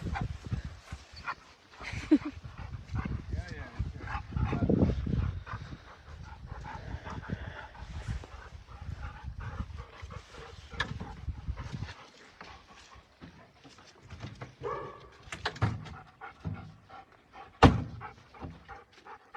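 Young hunting dogs barking, whimpering and panting at pheasant season, a close, busy mix of yelps and heavy breathing with bursts of activity and some background movement.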